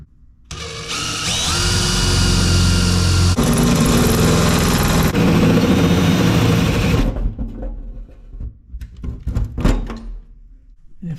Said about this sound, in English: I've located the spots where I want to drill my holes.